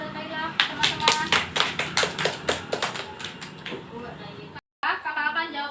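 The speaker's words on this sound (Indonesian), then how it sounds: "Beri aplaus kepada Kaila, teman-teman" Hand claps for a student named Kaila during a lesson on cells, a quick, even run of separate sharp claps close by, followed after a short silence by a voice talking.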